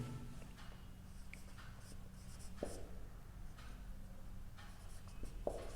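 Steady scratching of pen or marker on paper or board while working a number theory problem about greatest common divisors, continuous and close with a few louder strokes, no talk.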